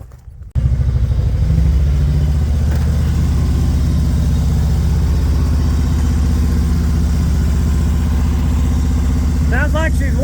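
A motorcycle that had not run for three months idles steadily after warming up, a continuous low engine rumble with a faint clatter, loud and close throughout, with brief voices near the end.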